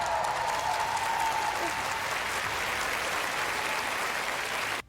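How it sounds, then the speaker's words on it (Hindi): Sustained stadium crowd applause after the national anthem at a Ukraine fundraising event, a dense roar of clapping filling the whole stretch before cutting off abruptly at the end. "स्टेडियम तालियों की गड़गड़ाहट से गूंज उठा।"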